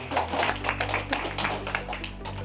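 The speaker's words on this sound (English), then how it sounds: "you can give yourselves a round of applause if you want" An audience at a Startup Oasis community event gives a short burst of scattered clapping, the claps closely spaced over a low steady hum.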